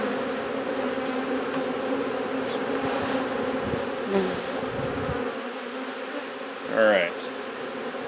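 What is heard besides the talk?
honey bees buzzing while marking a queen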